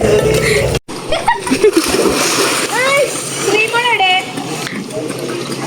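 A splash of someone jumping into a chlorinated pool on a family outing in Wayanad, one brief hit near the start, followed by excited children's voices and chatter.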